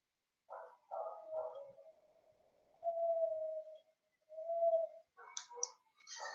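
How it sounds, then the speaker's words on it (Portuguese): A dog nearby makes faint, drawn-out whines and howls, then a few short, sharp barks, alone with no talking. "Um cachorro chato atuando aqui"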